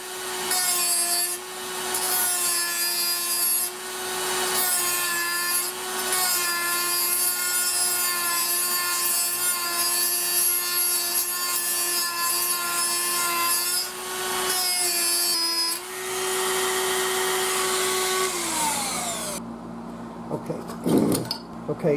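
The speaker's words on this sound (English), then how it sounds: "we're going to use this sanding drum, and we're just going to take it and sand that off" A steady, loud whirring grind of a sanding drum working against wood on a Crosley Bandbox Jr. antique radio, running continuously before winding down near the end.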